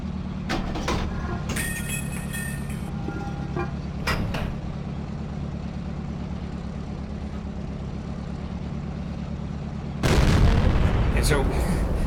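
A tank cannon firing at an E-100's turret in World of Tanks, with a constant heavy engine rumble, a few sharp bangs scattered through it and a louder blast near the end.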